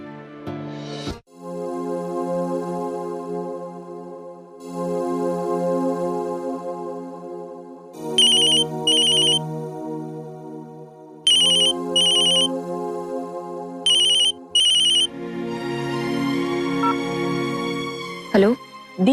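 An outgoing phone call rings back with a looping melodic ringtone, sustained tonal phrases broken by short bright repeated pulses, loud and clear throughout.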